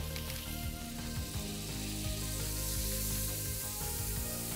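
Butter melts in a hot pan on residual heat after the flame is turned off, a soft, steady sizzle and hiss with faint clicks, quiet and close, no voices.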